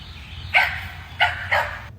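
A dog barks three times in quick succession, moderately close and loud, over a low steady background rumble with no talking.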